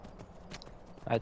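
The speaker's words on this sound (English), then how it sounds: "I wonder if I can ride down the mountain on this horse." Horse hooves clip-clop in the video game The Elder Scrolls V: Skyrim, a few soft, quick steps ending in a louder clop, under someone talking.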